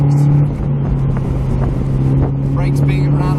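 A Mazda MX-5 NB Miata on a back road gives a loud steady engine drone with a brief revving blip during a heel-and-toe downshift into a tight corner, while someone talks over it.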